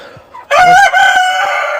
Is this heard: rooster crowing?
yes